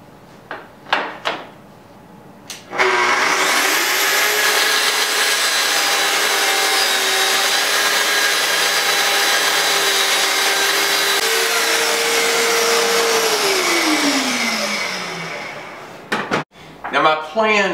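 A power saw cuts a straight 90-degree edge across the end of clamped-together plywood pieces, running loud and steady for about eleven seconds with a long sustained whine before winding down, with brief knocks and handling noises before and after.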